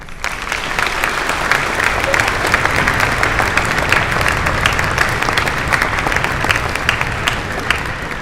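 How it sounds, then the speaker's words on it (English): Loud, sustained audience applause fills a school gym or auditorium during a middle school Veterans Day ceremony, steady dense clapping throughout with no gaps. "Let's give them a round of applause."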